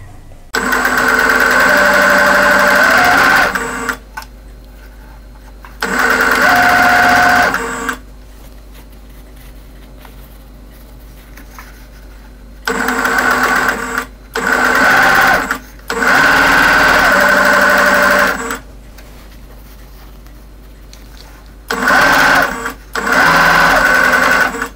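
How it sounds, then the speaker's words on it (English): A sewing machine chain pieces quilt patches together in loud, steady bursts of fast mechanical whirring, each run lasting a few seconds, separated by quiet pauses. "So now I'm going to sew all of these 2 patches together to make 4 patches. I'm just going to chain piece them all together."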